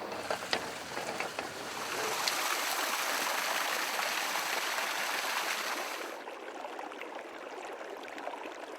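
Water rushes and burbles steadily through a shallow irrigation ditch channel into a field, a continuous close flow that eases slightly toward the end, with no voices.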